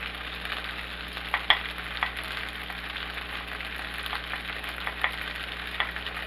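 Eggs frying in a pan for Spam fried rice give a steady, bright sizzle with scattered crackles and small pops throughout, no talking.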